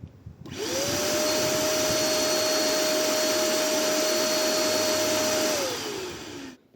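A Machtz MVC-1320 P construction vacuum cleaner switches on, runs with a loud steady whine and rushing airflow for several seconds, then powers down with a falling tone.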